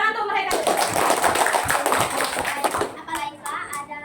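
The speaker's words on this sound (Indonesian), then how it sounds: "Tepuk tangan untuk mereka." Classroom applause from students during an open class session, a burst of dense clapping that starts abruptly and runs about two and a half seconds before fading, with children's voices chattering over it.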